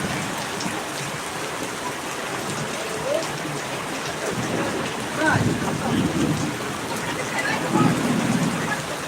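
Steady, dense rainfall hisses and patters on surfaces, a continuous wash of sound that swells slightly louder partway through.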